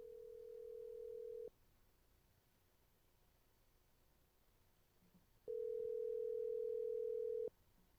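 A telephone dial tone sounds during a phone call: a steady, clean single pitch about 1.5 seconds long, then near silence with a faint hiss, then the same tone returns for about 2 seconds. No voices are heard.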